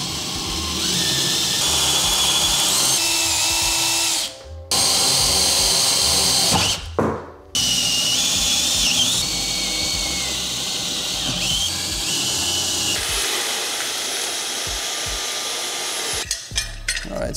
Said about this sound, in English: I'm gonna use a laser to mark exactly where I'm gonna have to drill.